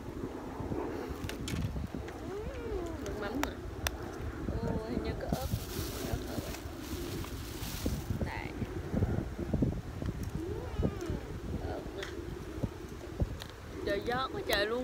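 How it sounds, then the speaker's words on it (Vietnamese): Strong wind blows across an outdoor park in Canada, a constant rough rumble of gusts buffeting the microphone while a person talks and handles food throughout. "Trời gió quá trời luôn các bạn ơi."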